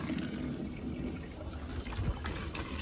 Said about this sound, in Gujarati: અત્યારે તો હાલો પાણી ભરલું.